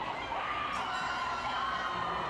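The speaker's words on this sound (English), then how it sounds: "we got some cheering here for Tamal from the audience" An audience at a national raw powerlifting meet cheers and shouts for a lifter, a dense, continuous crowd roar with high-pitched yells sustained throughout.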